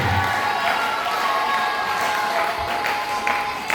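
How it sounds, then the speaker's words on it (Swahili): A church congregation claps during a sermon, a dense, sustained wash of applause from many hands with a few raised voices mixed in, loud and close. "Chapa mbele makofi kwa ajili ya nini?"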